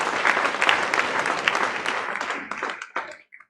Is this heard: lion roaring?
no